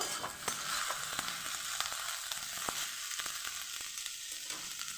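Broad beans fry in oil in a pan, making a continuous hissing sizzle broken by quick stirring taps, close and fairly loud, with no voices.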